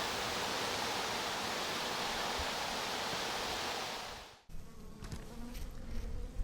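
A honeybee colony buzzes steadily at the hive, a dense, loud, continuous hum that drops away abruptly partway through, leaving quieter rustling and faint buzzing.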